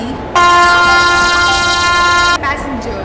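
A WAP7 electric locomotive in a train simulator game sounds a long, loud, steady horn blast of about two seconds as it arrives at a platform, over rumbling rail noise, followed by a brief shorter toot.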